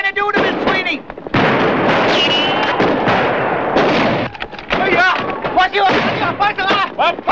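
Gunfire in a western film battle at the wagons, with loud repeated shots and blasts mixed with shouting voices and crowd noise, the firing bursts dense and chaotic throughout.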